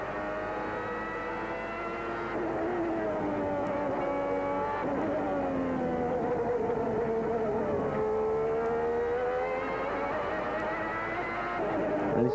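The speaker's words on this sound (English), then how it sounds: "And listen to that Ferrari engine." A Ferrari Formula 1 car engine screams at the 1992 Japanese Grand Prix, a high, continuous wail that rises and falls with gear changes and stays steady for the whole stretch.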